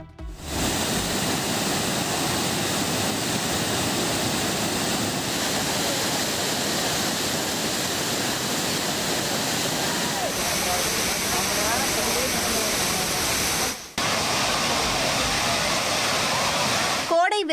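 Hogenakkal waterfall where tourists bathe, a loud, steady roar of falling water that fills the scene evenly, briefly cut off near the end.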